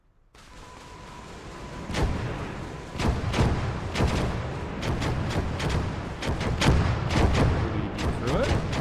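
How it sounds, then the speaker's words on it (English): A BM-8 rocket barrage in the World War II strategy game Gates of Hell: Ostfront, a long string of irregular booming impacts over a steady rumble, the blasts coming thick and fast for nearly nine seconds. "we'll put another barrage of BM-8 rockets into where the mortar"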